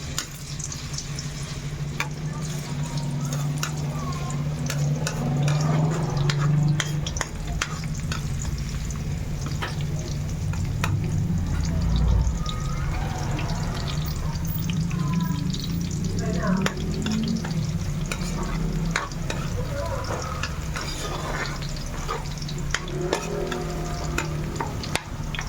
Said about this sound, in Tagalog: nasa medium heat lang po ang ating mantika, ang ating clan. Yun po. At inuna na po natin ang bawang.